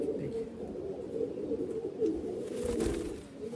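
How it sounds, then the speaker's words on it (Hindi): Domestic pigeons coo in a low, throaty murmur, close by and continuous, from a pair of pigeons held in hand for display. "तो दोस्तों ये रहा कबूतर का वजूद"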